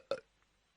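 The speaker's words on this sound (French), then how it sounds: "Il a fait un rot." A single short burp, faint and brief, followed by near silence.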